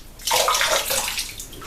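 Water gushes out of a squeezed synthetic shaving brush, a loud splashing trickle lasting about a second and a half before easing off.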